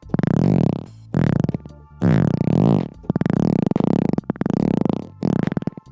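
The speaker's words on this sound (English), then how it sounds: "we're going to make some fart sounds using the tools that come with Ableton" Several fart-like blasts synthesized in Ableton, in a row, each a loud, buzzy, rubbery burst with a wobbling pitch, separated by short gaps.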